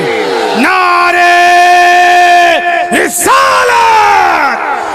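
At a religious speech gathering, a loud drawn-out slogan call is answered by a crowd that roars back in unison, the massed voices swelling powerfully and close.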